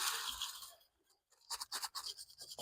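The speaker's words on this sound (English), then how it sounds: "I've already washed over here with the toothbrush" A toothbrush scrubs a circuit board from a vintage 1981 Coleco Pac-Man tabletop mini arcade game with 91% alcohol, giving close, bristly brushing strokes that come in bursts, with a short pause in the middle.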